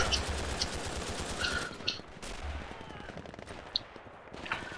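Game gunfire from the Red Orchestra multiplayer shooter, with scattered rifle cracks and bursts over constant battlefield noise; a few sharper near shots stand out against a dense, rumbling background.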